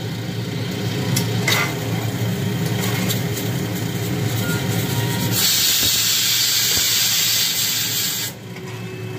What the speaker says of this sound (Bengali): আমার কুকার কিন্তু জিজলিং করছে, খালি শোষো আওয়াজ করছে।